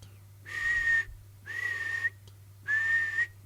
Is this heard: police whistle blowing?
yes